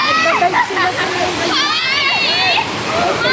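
River water rushes and splashes steadily throughout, with children talking and shouting over the flow.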